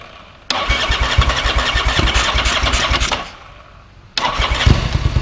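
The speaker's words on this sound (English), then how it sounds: "we'll fire it up one more time" A 1987 Ducati F1 750 motorcycle engine cranks and fires, running loud and close with a rough, throbbing idle for about three seconds, cutting off, then catching again near the end.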